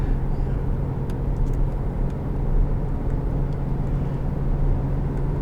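Steady low engine drone from a 2019 Jeep Grand Cherokee V6 under acceleration, heard from inside the cabin with constant road rumble and no speech.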